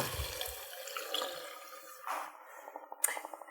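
Vegetable broth poured into a pot of lentils for dal, a soft liquid splash and gurgle up close, followed by light clinks and drips near the pot.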